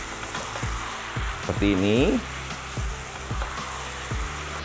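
Beef sizzles in a hot pan with sweet soy sauce, stirred in a regular rhythm of scraping strokes over constant frying hiss, with someone briefly speaking midway.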